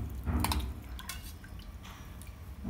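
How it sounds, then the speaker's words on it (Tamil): Water is poured into a pot for cooking lentils with kodo millet rice, a close splashing and gurgling that starts strong and tapers into softer trickles and drips. "இதுக்கு பத்து டம்ளர் தண்ணி ஊற்றுறேன்."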